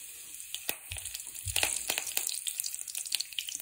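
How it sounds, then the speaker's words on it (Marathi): Cumin seeds and a few curry leaves hitting hot oil, a steady crackling sizzle with sharp pops and a couple of soft low thuds as the spices drop in, close and moderately loud without any voices. "आता तेल चांगलं तापलंय, जिरे टाकून घेते। कढीपत्त्याची 2-4 पानं टाकायची"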